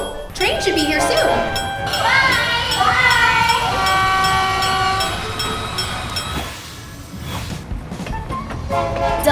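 A toy train arrives and sounds its horn in a children's play setting, with tonal honking under steady rumbling and young voices talking over it throughout.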